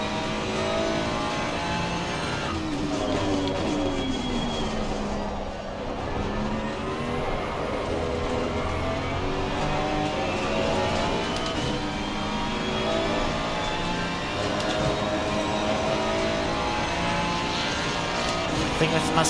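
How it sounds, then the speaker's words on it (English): A Ford Mustang GT race car in Assetto Corsa Competizione roars past at Silverstone, its engine a steady loud drone that rises and falls in pitch over about twenty seconds of continuous racing noise. "Here comes the Mustang."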